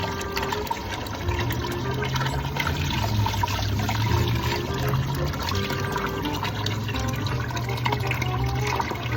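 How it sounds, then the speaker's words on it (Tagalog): Water is poured by hand into a small portable washing machine, a steady splashing and gurgling fill that runs continuously, fairly close and moderately quiet, with no talk. "mano-mano ko lang muna nilagyan ito ng tubig"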